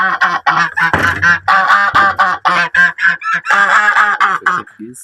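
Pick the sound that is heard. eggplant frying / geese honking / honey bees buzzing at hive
geese honking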